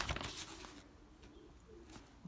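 Belgian racing pigeons give soft low coos close by, a few murmuring calls over a quiet background with faint rustling at the start.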